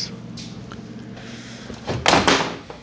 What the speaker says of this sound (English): Just knocked that board over.